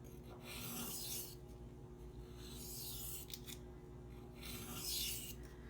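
CPM-4V steel knife, ground thin, worked on a coarse sharpening stone with light back-and-forth passes: soft, repeated rasping strokes in a slow rhythm, close and quiet, each stroke a few seconds long.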